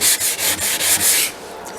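Steady back-and-forth rasping of sandpaper by hand on teak wood, close and fairly loud, in quick repeated strokes, then easing off at the end.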